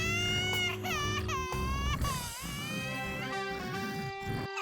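Cartoon babies cry after being woken too early, wailing loudly and continuously with rising and falling sobs that overlap throughout.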